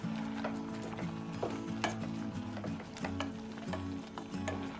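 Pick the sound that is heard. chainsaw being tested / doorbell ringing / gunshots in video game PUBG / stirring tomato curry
stirring tomato curry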